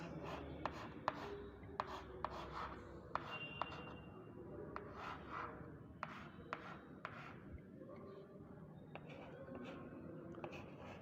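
Numbers are written by hand during a lesson on reading three-digit numbers with an abacus and place value chart, giving soft, steady scratching strokes with faint taps over a constant room hum.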